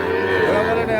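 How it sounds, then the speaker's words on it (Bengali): A young Sahiwal bull calf at a busy cattle market gives a sustained, close moo with a strong, steady tone lasting about a second, set against crowd noise and nearby voices. "এখানে আমরা দুটো শাহিওয়াল ষাঁড় বাছুর দেখছি"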